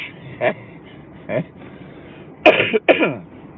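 Several coughs: two light ones, then two harsher, louder coughs close together near the end, with quiet between them.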